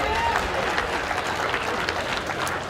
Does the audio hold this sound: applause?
yes